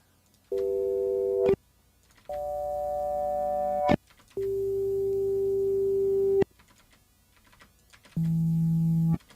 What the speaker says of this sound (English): This kind of sounds like a dial tone.